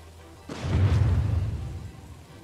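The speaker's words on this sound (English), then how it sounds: "Explosions, guys." A deep explosion bursts out in the Deathloop video game, a sudden boom followed by a low rumbling roll that fades over about two seconds, with no talk over it.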